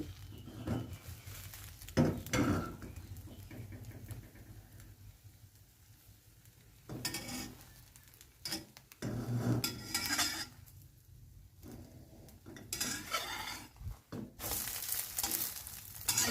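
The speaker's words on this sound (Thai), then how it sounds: "วันนี้ยอดได้ทอดไข่ได้สวยมากนะคะทุกคน" Beaten eggs fry in a pan with little oil for a Thai-style omelette: a low sizzle with intermittent scraping and clattering of a utensil against the pan, heard up close in bursts.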